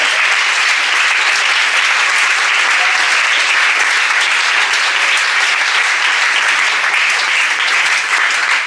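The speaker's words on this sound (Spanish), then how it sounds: "aplaude al Señor que te ha amado" A church congregation claps steadily during an evangelistic campaign service, with dense, loud applause that keeps up evenly for the whole stretch and no break or clear voice on top.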